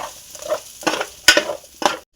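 Vegetables with chilli powder and biryani masala stirred in a frying pan, a few close scraping strokes with a soft sizzle underneath, spaced irregularly over a couple of seconds.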